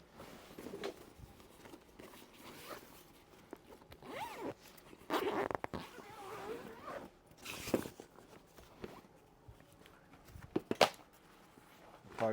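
Zippers on a padded mobility scooter bag are pulled open and shut in several quick rasping strokes, close and distinct, with fabric rustling and handling noises between them.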